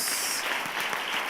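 A Portuguese-speaking church congregation applauding during a Sunday celebration service, a brief, steady wash of many clapping hands at moderate volume, with no voice on top.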